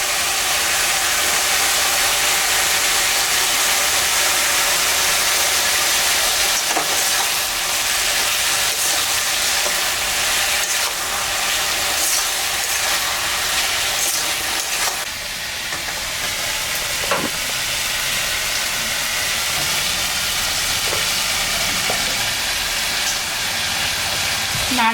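Turmeric, ginger, cumin and dried chilli frying and stirred in a pan for a potol, brinjal and fish chorchori, a loud steady close sizzle with occasional scraping strokes and no talking.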